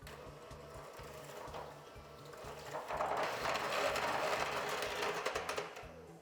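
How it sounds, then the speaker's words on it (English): Electric hand mixer beating cupcake batter in a bowl, a steady whirring drone with rhythmic rattling that grows somewhat louder halfway through, close and fairly quiet, with no talking. "Now you'll want to grab your electric mixer again."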